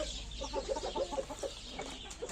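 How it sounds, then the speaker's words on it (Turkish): Farm chickens cluck in a quick run of short repeated notes, fairly close but quiet, with a steady low background rumble. "Buralarda da tavuklarımız var."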